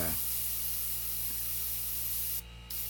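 A continuous fine hiss of an airbrush spraying paint, close and steady, briefly pausing near the end before resuming.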